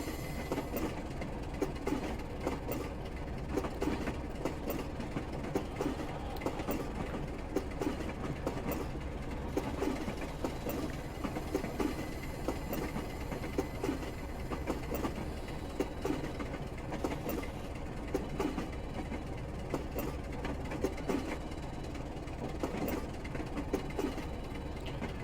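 A Class 27 diesel train in Train Simulator Classic, on the Ardlui to Fort William route, slows under braking with a steady low rumble and faint regular rail clicks, alone with no talk.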